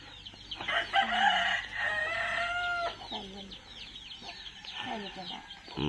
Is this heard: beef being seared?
no